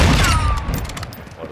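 A loud sniper rifle shot in a shooting game, a single sharp blast at the very start whose booming tail rings out and fades over a second and a half, with a faint voice under it.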